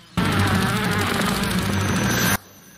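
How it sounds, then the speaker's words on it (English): In a Doctor Who episode, a giant wasp gives off a loud, close, continuous insect buzz that starts abruptly, holds steady for about two seconds, then cuts off sharply, with no talking over it. "It's a giant wasp."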